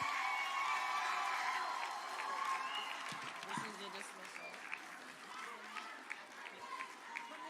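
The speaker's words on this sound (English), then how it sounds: "Let's stand to our feet and give these children a round of applause." A crowd at a fifth grade graduation ceremony applauds and cheers for the children, steady dense clapping with scattered whoops that slowly thins over several seconds, heard from within the audience.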